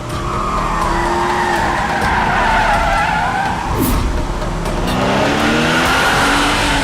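A car skids with long squealing tires, loud and close, its engine roaring under the screech as it slides and passes by, continuous for several seconds.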